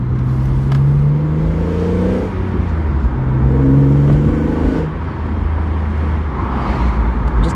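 BMW E46 M3 straight-six engine heard from inside the car with the windows down, a steady droning note rising and falling with throttle, plus road and wind noise.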